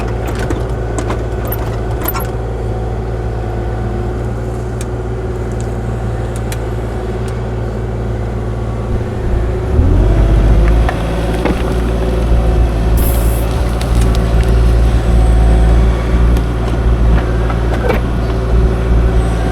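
A Kubota KX040-4 compact excavator works an off-grid woodshed pad, its diesel engine holding a steady low drone with clanking and grinding mechanical sounds, rising louder midway as the machine digs and reshapes ground close by.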